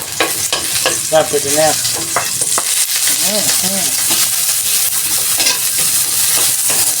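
Onions sizzling in a hot pan while being stirred, a steady loud fry with scraping spatula strokes, and someone speaking briefly over it.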